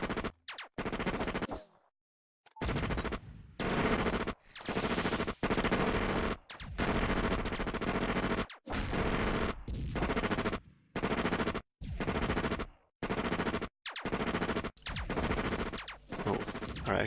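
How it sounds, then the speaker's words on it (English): Pulse laser and plasma cannon fire in a city survival video game, loud rapid bursts of synthetic shots in long runs, broken by abrupt silent gaps. "catch these enemies in a crossfire between my pulse laser and my plasma cannon"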